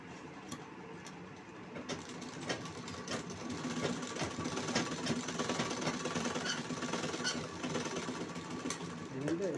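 A sewing machine stitches a blouse, a rapid rhythmic mechanical clatter starting quietly and growing steady after about two seconds, with someone speaking Tamil over it.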